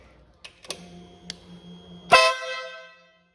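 A compressor-fed air horn on a customized 2021 Ural Gear Up motorcycle blasts once, loud and close, after a few soft clicks and a faint tone, then trails off into silence.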